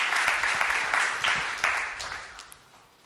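A church congregation bursts into applause, a dense, steady clatter of many hands filling the hall before gradually tapering off.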